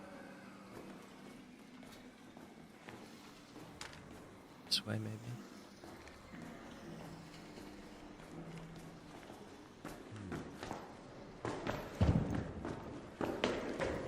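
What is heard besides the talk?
footsteps in the video game Arc Raiders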